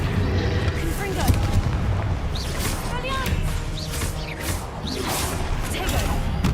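Confringo blasting spell explosions in the video game Hogwarts Legacy, a busy run of booming blasts and crackling impacts layered with whooshing spell effects, continuous and loud, with a voice talking over the action.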